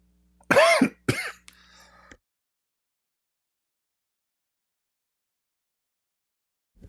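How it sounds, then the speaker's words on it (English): Two quick, harsh coughs close to the mic, followed by a faint rustle and then near silence. "Sorry, I have to cough."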